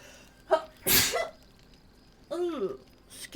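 A person sneezes loudly and close to the microphone, with a quick intake of breath before it and a short vocal sound right after.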